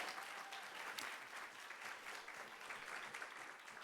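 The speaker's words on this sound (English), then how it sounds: "Please give him a round of applause." An audience applauds a law professor being introduced at a university last-lecture event, with steady, dense clapping filling the room throughout and no voices over it.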